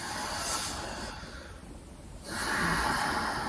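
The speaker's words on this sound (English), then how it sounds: "Breathing." Deep, slow breathing during a stretch, with two long broadband breath swells separated by a quieter pause, close and fairly soft with no talking.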